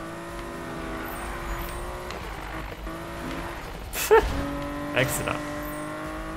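A car drifts in the racing game Need for Speed 2015, its engine droning steadily with shifting pitch and a couple of short tire squeals, while someone talks over it.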